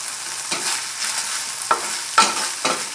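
A spoon stirs anchovies in a hot pan glazed with sauce and rice syrup, over a steady sizzle. A few distinct scraping strokes sound close up, with no talking.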